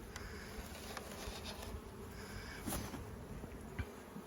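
Honey bees buzz steadily throughout as frames from a nucleus are transferred into a full-size hive's brood box, a dense continuous drone with a few louder individual passes close by and no talking.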